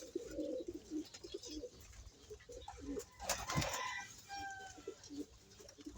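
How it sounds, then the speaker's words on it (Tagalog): Pigeons in a fancier's loft coo softly at a distance, with low warbling calls repeating among scattered wing flutters and small knocks, plus a few brief higher chirps, without talk. "Yan po kalapatids ang mga ibon natin."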